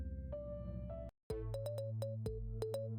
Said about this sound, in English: I hear my phone buzzing